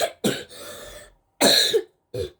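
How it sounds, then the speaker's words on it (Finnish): A person with a cold coughs in three separate bursts, close and fairly loud, the first a longer rough fit of coughing followed by two short coughs after brief silences, during a Fortnite gaming session. "mulla on yskä"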